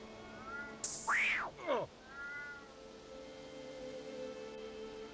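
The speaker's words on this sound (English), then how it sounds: "Then she meows at you again." A cat in RuneScape 3 gives a single loud, rising-and-falling meow, followed by a shorter trailing mew, over a soft background hum.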